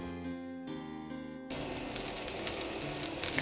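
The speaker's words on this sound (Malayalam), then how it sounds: "ബാക്കിയുള്ള ബട്ടർ ഞാൻ ചേർത്ത് കൊടുക്കുകയാണ്." Butter melts in a frying pan for butter chicken, and after a brief tonal sound at the start, a soft, steady sizzle and crackle take over, fairly quiet and close.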